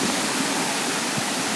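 Small waterfalls on a canal running high after flooding give a steady, even rush of falling water, close and continuous with no voices.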